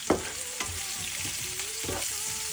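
Onion, green chilli and curry leaves fry in hot oil in a pan, a continuous close sizzle punctuated by a couple of sharp stirring scrapes, no speech.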